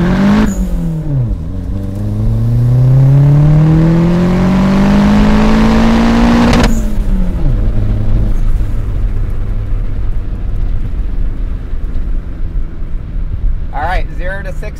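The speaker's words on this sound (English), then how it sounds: "And I absolutely smoked the tires on that launch, so I know we could do better than that." A turbocharged Mazda Miata at 9 psi launches hard with spinning tires, its engine note climbing steadily through the revs before a sharp shift, then revving again, loud and close with wind noise.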